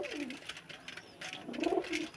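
Pigeons kept in a Bangladeshi home loft coo softly in two rounded, throaty bursts, with faint background noise and no speech.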